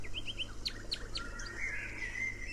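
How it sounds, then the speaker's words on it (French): Several small birds chirp and tweet in a quick, bright series over a soft, steady background hum, sounding fairly close and clear with no voices. "Je dis bonjour aux oiseaux, partant pour l'Afrique."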